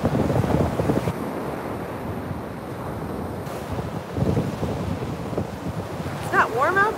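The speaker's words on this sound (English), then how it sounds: "Yes, the waves are strong this morning. The wind is strong," Strong wind buffets the microphone over rough ocean waves on a morning shoreline, a continuous roar with surging swells, while a voice speaks faintly underneath.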